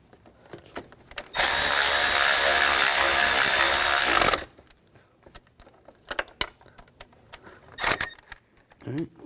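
A ratchet tightens alternator mounting bolts on a 2000-2006 BMW X5 3.0L inline-six: a loud, fast, continuous clicking run of about three seconds up close, then scattered metallic clinks and tool handling.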